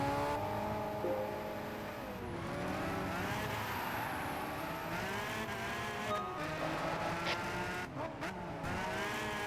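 Race car engines in Gran Turismo 5 drone steadily with shifting harmonic revs, a Ferrari among the cars, and brief tire-squeal and skidding accents over a continuous close engine roar.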